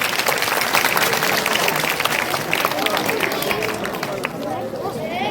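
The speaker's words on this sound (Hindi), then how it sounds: "तालियां बजाएं" Audience applause at a school event in a high school hall, a dense, steady wash of clapping mixed with crowd murmur that holds evenly for several seconds before easing slightly.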